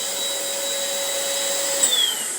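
A vacuum cleaner collects dust while tile is cut with an engraver, making a loud, steady whining drone with a sustained tonal hum and a brief pitch shift near the end.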